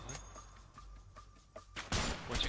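Gunfire in the video game A Way Out: a string of sharp shots spaced through the first two seconds, then a louder burst of blasts at the end, set over a low background hum.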